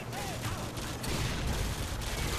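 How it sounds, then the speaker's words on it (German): Gunshots ring out in the video game Call of Duty Modern Warfare 2, several sharp cracks spaced unevenly over a dense, loud background of rumbling battle noise. "Und wo kam der Schuss?"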